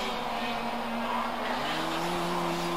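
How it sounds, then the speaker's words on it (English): A racing go-kart with a CVT transmission drones steadily at high revs, a loud continuous engine tone that holds close throughout. "now have a listen to this, listen to the engine here"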